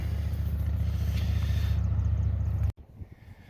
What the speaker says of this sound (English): kind of close to a road, so you're gonna hear traffic noise